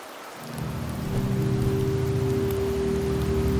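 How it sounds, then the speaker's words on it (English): Steady rain falls in the game Wuthering Waves, a dense hiss with a low rumbling undertone like distant thunder, building up within the first second and holding evenly without any voices. "The rains in Septimont never seem eager to leave this season."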